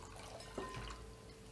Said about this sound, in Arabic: غادي نزيدو عليه شويه ديال الحليب اللي تنأكد يكون دافي.